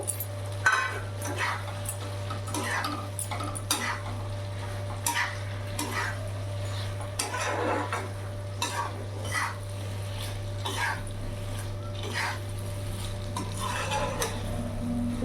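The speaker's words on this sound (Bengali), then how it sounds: "এইভাবে একটু নাড়াচাড়া করে মিশিয়ে নেব" A spatula scrapes and taps repeatedly in a pan of fried mourola fish being mixed with spices for chachchari, rhythmic stirring strokes over a steady low hum and light sizzle, no voices.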